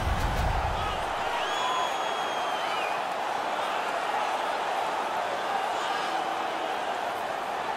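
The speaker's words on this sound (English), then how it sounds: "Their man's won the fight. The crowd is ecstatic." Arena crowd in the NHL 19 ice hockey video game roars after a fight between Tampa Bay and Florida players, a steady dense wash of cheering and noise that holds throughout at a moderate level.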